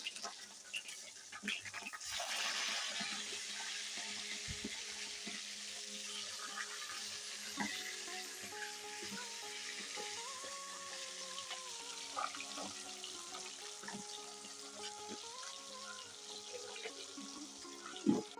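Flipped katla fish pieces frying in mustard oil, a steady soft sizzling hiss lasting throughout at low volume, with faint tonal background sound.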